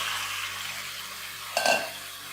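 Potatoes tip into onions already frying in oil for a kachnar aloo sabzi, a steady close sizzle interrupted by a brief clattering burst as they drop in, then the hiss resumes.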